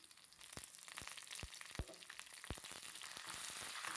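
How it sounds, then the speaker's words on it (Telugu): Curry leaves and dried red chillies fry in oil for a broad bean stir-fry, giving a faint, steady crackle punctuated by sharp pops, with no talking. "నాలుగు ఎండు ఎండుమిరపకాయలు కరివేపాకు వేసుకొని వేయించుకోవాలి"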